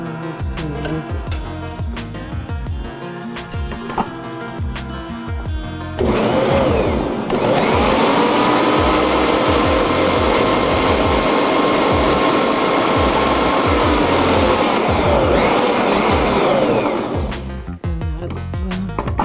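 A Bosch Universal Plus stand mixer (MUM6N10UC) fitted with a dough hook starts up after a few seconds into a loud, steady motor whine. It runs for about eleven seconds and then winds down, with no talking.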